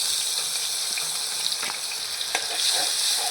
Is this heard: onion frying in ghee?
yes